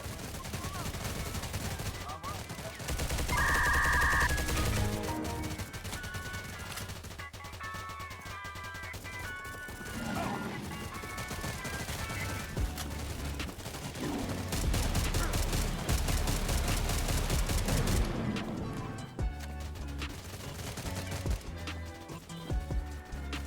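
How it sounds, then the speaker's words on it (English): Gunfire from an MK47 Mutant rifle in a video game, dense bursts and bangs over a busy game soundscape with effects, fairly loud and continuous across the stretch. "I just need to shoot instead of throwing the grenades."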